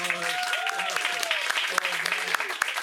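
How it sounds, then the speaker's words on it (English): An audience applauds after a comic divine-foolery reading, a dense, steady patter of clapping at close range, with a voice and some tonal vocal sounds rising over it throughout. "please, applause"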